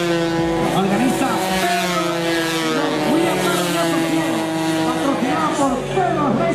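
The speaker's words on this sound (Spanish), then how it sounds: "Competencia de moto velocidad" Loud, continuous whine of 50cc racing motorcycle engines at a motorcycle speed race, harmonics rising and falling as bikes shift and pass, a crowded, steady roar throughout.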